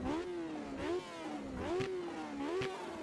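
A race car engine in Automobilista 2 revs up and down in repeated rising sweeps, a steady mid-pitched drone with sharp throttle blips, heard close and alone.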